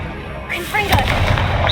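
A Confringo blast spell fires in the video game Hogwarts Legacy, a loud booming burst with crackling impact, followed by sustained rumbling game effects and ambience.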